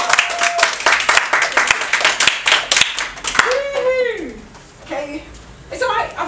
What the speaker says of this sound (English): I just wanted you to stay and get your applause